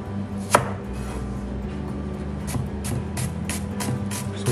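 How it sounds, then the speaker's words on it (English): An onion being chopped with a knife on a board: a string of sharp, close knocks that start sparse and grow into a quicker, irregular rhythm over a low background hum. "we'll chop it nicely chop the onions."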